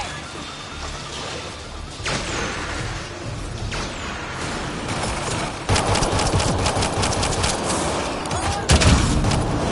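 Gunfire in the sci-fi shooter Mass Effect Andromeda: bursts of shots and impacts crackle in a busy combat mix that grows louder and denser toward the end, with game voices under the fighting.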